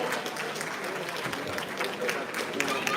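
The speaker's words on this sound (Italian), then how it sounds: "un bel applauso ai due pugili" Steady applause from a crowd at a regional elite amateur boxing tournament final in Veneto as two boxers step down from the ring, filling the whole stretch at an even, dense level.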